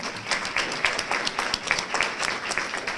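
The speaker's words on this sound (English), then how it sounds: "You have to stand up so we can give you a round of applause." An audience applauds the faculty during a spring graduation ceremony for a mathematics, computer science and physics department, a continuous moderate clapping with distinct individual claps standing out from the crowd.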